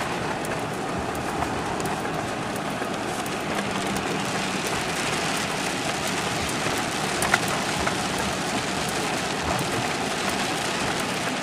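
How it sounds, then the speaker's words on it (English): A steady, soft hiss of light rain falls continuously outdoors, even and unbroken, with no voices, as a storm eases to a sprinkle in Hueytown, Alabama, at 67 degrees. "the rain has pretty much just come to a sprinkle"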